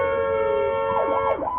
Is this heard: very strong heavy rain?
no